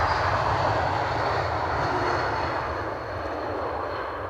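Airplane engines at windy Edinburgh Airport produce a continuous broad rumbling roar that holds steady and then eases slightly, distant and without talk.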